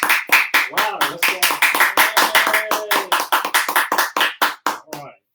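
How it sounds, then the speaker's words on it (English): People clap their hands in a brisk burst of applause, a fast run of sharp, loud slaps that keeps a steady pace and then stops, with a voice calling out underneath. "Let's clap for all the people that help us."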